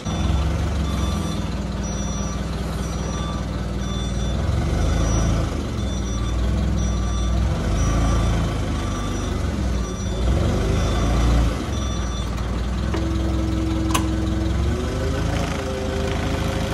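A forklift backs up beside a Gleaner R72 combine, its steady reversing beeps repeating over a loud, rumbling, idling engine throughout.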